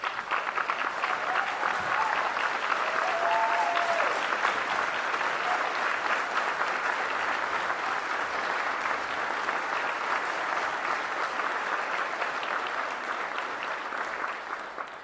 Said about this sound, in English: I ask you to give her a big round of applause.